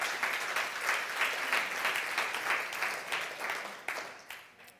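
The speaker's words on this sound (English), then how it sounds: "A round of applause to Anna and Mr. Thomas" An audience at a leadership camp applauds in a dense, continuous patter of many hands clapping, fading slightly toward the end.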